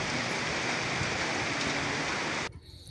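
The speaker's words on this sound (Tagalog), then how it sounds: "Nabutan na kami ng ulan." Steady rain pouring on a mountainside, a dense, loud hiss of drops that cuts off abruptly near the end, leaving faint patter.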